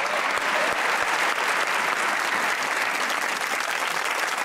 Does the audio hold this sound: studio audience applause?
yes